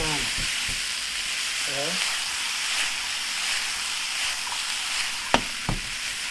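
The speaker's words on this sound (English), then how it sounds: "And that's just cooking, it's just sauteing away, it's getting nice and beautiful." Brussels sprouts sauté in a pan with a constant close sizzle and hiss, a few sharp clicks of a utensil toward the end, and one brief spoken word early on.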